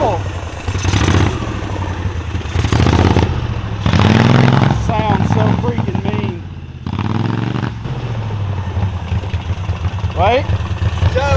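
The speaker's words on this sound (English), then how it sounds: "So that rev limiter, every time it like lets it rev back up, it starts spinning again." A 999cc V-twin go-kart engine roars loudly up close, bouncing off its rev limiter in repeated surging cuts and pickups, with people talking over it.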